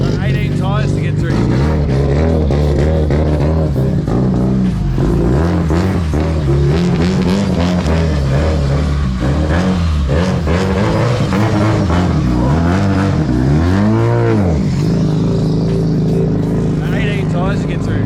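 Nissan R34 Skyline drift car on track at a VicDrift round, engine droning loud and steady with rising and falling revs throughout, heard from close up, likely in-car, with voices talking over it.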